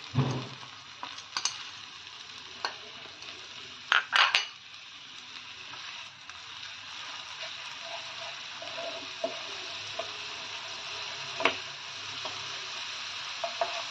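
A paste of cumin powder, turmeric, Kashmiri red chili and hot chili powder mixed with water hits a hot pan for a Bengali fish curry, giving a steady broad sizzle with intermittent clinks and scrapes from stirring.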